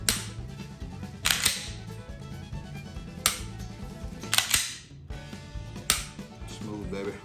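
A Glock 19 pistol being reassembled and handled after cleaning: sharp, close metallic clacks and snaps of the slide and parts, about five distinct hits spaced irregularly over quieter handling rustle.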